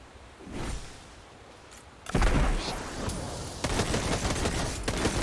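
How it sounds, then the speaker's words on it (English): Fireworks go off outside, a sudden loud burst of crackling pops after a quieter stretch, followed by continued rumbling bangs heard at some distance. "Someone's out there just launching off fireworks again."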